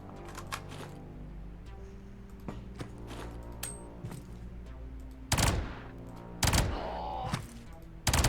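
Gunfire from a gun in the video game Quasimorph: light rapid shots and clicks at first, then three loud, sharp blasts toward the end, close and crisp. No one talks.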